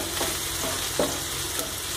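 Chopped onions sautéing lightly in a pan for a karunai kizhangu (elephant foot yam) masala give a steady, close sizzle, broken every half second or so by soft scraping stirs, with no voices.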